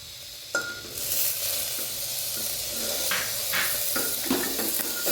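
Carrots and peas sautéing in a pan for pulao: a bright continuous sizzle with a sharp clink near the start, then intermittent spatula scrapes and stirs close by, no voices.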